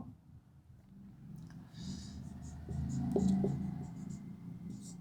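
Chalk or marker scratches across a classroom board as a teacher writes Hindi words during a maths lecture, close and steady with some light tapping and a brief faint voice.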